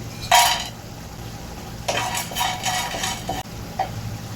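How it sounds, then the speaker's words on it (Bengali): Dried fish (shutki) frying in a pan, heard as short bursts of utensil clatter and scraping against the pan over a faint background sizzle, with quiet gaps between the stirs. "আমি ছুটকিটা একটু ভেজে নিব"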